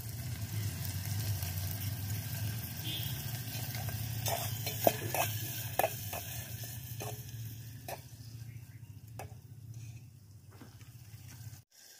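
Marinated chicken with salt, turmeric and spice masala frying in a pan, a low steady sizzle under a hum, with a cluster of scraping and clinking stirs in the middle before the heat fades.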